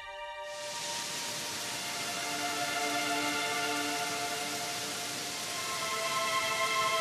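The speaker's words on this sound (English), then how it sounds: "Then the rain started." Rain starts up after a brief silence and settles into a steady, even hiss that grows slightly fuller, with a faint tonal hum running beneath it and no voices.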